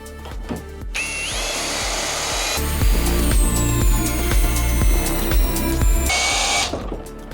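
A ProCraft CD20B cordless screwdriver drives a 300 mm lag screw, its motor whining up and then labouring loudly at a steady pitch for several seconds with rhythmic clicking before it stops.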